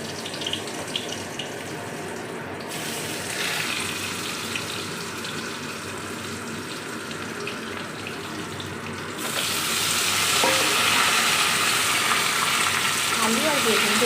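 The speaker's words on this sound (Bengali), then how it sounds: "এই তেলের মধ্যে কিন্তু সিদ্ধ করে রাখা কিন্তু আলুগুলো দিয়ে দেবো।" Boiled potatoes dropped into leftover hot oil in a pan, giving a steady watery hiss that swells louder partway through and keeps going without a break.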